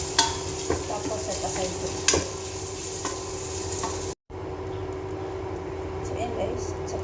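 Food sautés in a pan with a constant sizzle and scattered clinks and scrapes of stirring, while a person talks over the cooking. There is a brief cut to silence partway through.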